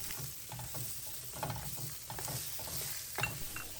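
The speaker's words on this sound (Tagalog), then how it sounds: "Kapag mainit na ito, isutay natin ang 1 whole crushed garlic. Isunod natin ang 1 big size na white onion." Crushed garlic and a big white onion sauté in a hot pan, giving a soft, quiet sizzle broken by repeated stirring and scraping clicks, with no voices.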